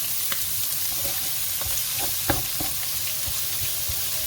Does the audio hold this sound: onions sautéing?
yes